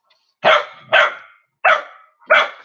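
A dog gives four loud, sharp barks close by, the first two quick together, then a pause before two more, with silence between them.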